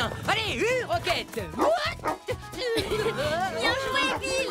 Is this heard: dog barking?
yes